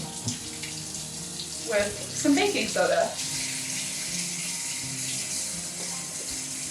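Hot water runs and splashes into a pot holding wool yarn for natural dyeing with goldenrod, a steady pouring wash under a brief spoken line, continuing close and fairly loud throughout.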